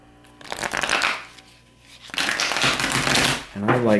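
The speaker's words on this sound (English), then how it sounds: "I'm just going to do some shuffling." Tarot card decks being shuffled close up in quick riffling bursts, with a brief pause between runs and a voice speaking faintly underneath.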